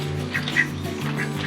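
A duck quacks several times in quick, uneven calls at close range over a low steady hum, with no talking.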